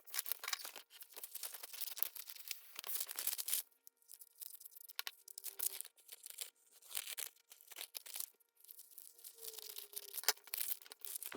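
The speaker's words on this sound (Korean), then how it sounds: "잘라 보도록 하겠습니다." Paper sewing pattern being cut for a side-slit jumper skirt, with repeated crisp snipping and tearing rustles in bursts separated by brief pauses, close and fairly quiet with no talking.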